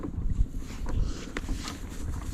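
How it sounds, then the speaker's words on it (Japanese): Strong wind blows from land out to sea on the coast of western Izu, a steady low rumbling buffet across the microphone with faint water and boat noise. "陸から沖に向かってすげえ吹いてる。"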